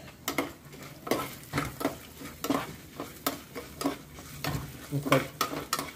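Coconut and asafoetida roasting in a pan, with repeated stirring scrapes and a soft steady sizzle in a quick irregular rhythm, close and moderately loud, with no talking.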